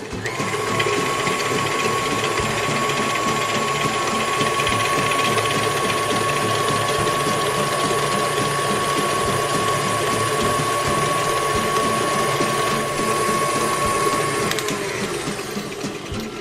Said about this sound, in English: I am gonna turn on my mixer and start mixing.